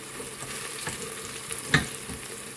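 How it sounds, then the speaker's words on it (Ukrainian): Steady sizzling of onions frying in hot oil in a pressure cooker, with a few brief stirring clatters and one sharper scrape near the end. "підсмажуємо ось так цибульку."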